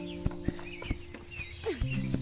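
A horse's hooves clip-clop sharply in a slow, uneven rhythm, close by, over a steady low hum of background music.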